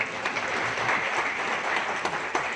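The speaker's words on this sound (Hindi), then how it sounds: "तालियां बजाकर स्वागत कीजिए।" An audience claps steadily to welcome a guest onto the stage at an education society event, a dense, even patter of many hands that holds at a constant level without pause.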